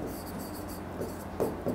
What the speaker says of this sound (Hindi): जैसे मैं लिखता हूं